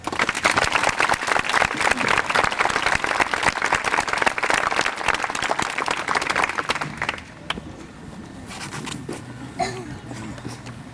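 Audience applause fills a school promotion ceremony in 1996, dense, steady clapping for about seven seconds that then fades to a quieter room with scattered claps and a voice.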